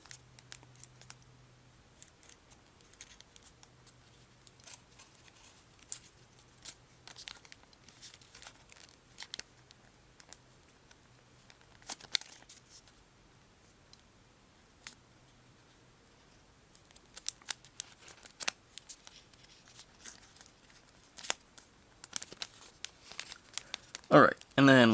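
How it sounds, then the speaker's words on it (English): Sheet of paper pleated back and forth into a bullet chain for an origami machine gun, giving faint scattered crinkles and soft creasing taps over a quiet background, with a louder crumpling burst near the end. "And just keep pleating like this to make the entire bullet chain."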